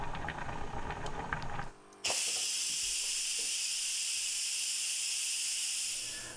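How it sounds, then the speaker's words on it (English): Pressure cooker with braised beef short ribs reaching a boil: bubbling and rattling give way to a loud, sudden, continuous steam hiss that holds steady before easing slightly at the end. "you can hear that the contents of the pot have come to a boil as it builds up sufficient steam pressure inside for the pressure cooking to begin"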